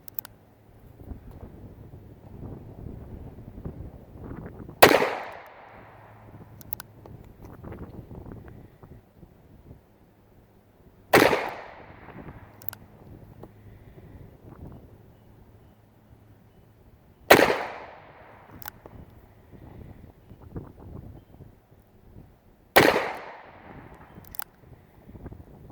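Four loud revolver shots with S&W NY-Clad ammunition fired at targets outdoors, evenly spaced about six seconds apart, each a sharp crack with a decaying echo over wind noise.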